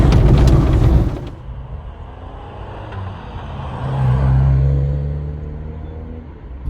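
Mk2 Ford Escort 1600 Ghia on a test drive, a steady low engine rumble inside the car that swells briefly as it pulls, with a louder burst of noise at the start.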